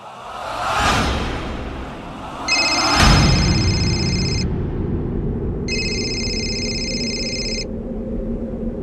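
An indoor telephone rings in two bright, repeated electronic bursts separated by a pause, following a couple of sharp dramatic whooshes and a low sustained drone underneath.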